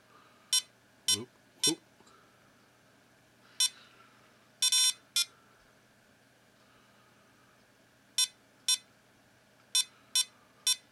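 Sharp electronic beeps from a Kaboom handheld keychain game, some single and some in quick double or triple bursts, spaced irregularly over a faint background hum.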